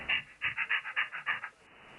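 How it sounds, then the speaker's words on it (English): A dog panting close by, a quick run of about ten sharp, rhythmic breaths over a second and a half, then stopping. "No, that's the dog."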